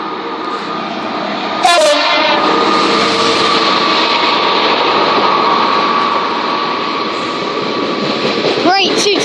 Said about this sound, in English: Let's get a horn, shall we?